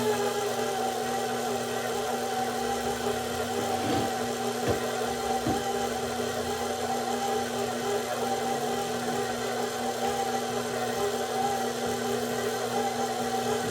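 A stand mixer running in a gear for seven minutes, beating pound cake batter with sugar: a loud, continuous motor hum with steady mechanical whir and a couple of faint knocks, no talk.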